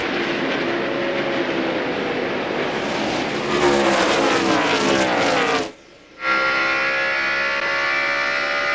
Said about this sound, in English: Wallace, Stewart, Elliott racing for 5th, 6th, and 7th.